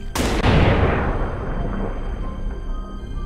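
A single loud gunshot in the survival horror game Amnesia: The Bunker, a sharp close blast followed by a long, booming reverberant decay.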